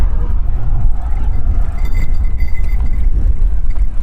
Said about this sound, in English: All these cars.